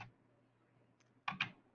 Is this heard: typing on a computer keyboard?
yes